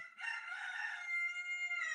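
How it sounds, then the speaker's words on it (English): A rooster crows once in a long, drawn-out cock-a-doodle-doo, fairly faint and distant, holding steady to the end with no voices around it. "the moment you know that it's a rooster, it'll crow"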